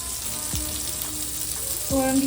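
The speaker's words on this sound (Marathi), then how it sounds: "आता इथे कोलंबी फ्राय करते" Prawns fry in a pan with a steady, soft sizzle, broken by a couple of brief clinks from the pan or a utensil.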